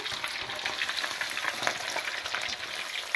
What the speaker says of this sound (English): when you're deep frying, you're just going to do it in, you know, in batches